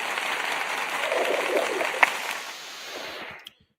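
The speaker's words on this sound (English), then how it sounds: "Let's give you the clap" Applause for a girl from a football fan channel after Arsenal's 3-1 win over Bayern, a steady broadband patter of clapping that runs for about three seconds and stops abruptly.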